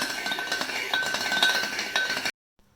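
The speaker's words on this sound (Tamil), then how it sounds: "இனி இந்த மத்து வச்சு லேசாக அப்படி கடைஞ்சிட்டோம்னா நல்லா ஒன்று போல் வரும்" Cooked dal for paruppu rasam is churned with a wooden churner in a pot, giving quick, close, rhythmic clinking and knocking for about two seconds before cutting to silence.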